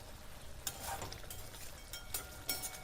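Stuffed eggplant is stirred in a pan over a low flame, giving a few scraping stir strokes over a quiet sizzle, close and fairly soft, with no talk.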